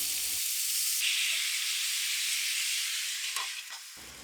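Pork belly fries under a lid in a covered pan, giving a steady, bright sizzling hiss that goes on without a break and softens slightly toward the end, with faint pops near the close.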